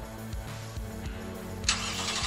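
A 2017 Nissan Titan Pro 4X pickup fires up by remote start: the starter cranks in several quick pulses, then the engine catches with a sudden louder burst and settles into a steady idle.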